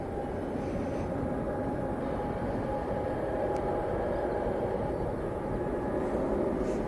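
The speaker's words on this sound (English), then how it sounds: "This is a Jet2 Boeing 757." A Jet2 Boeing 757 airliner passing at Manchester Airport, a steady broadband engine roar holding at constant loudness throughout, low rumble dominant with no voices.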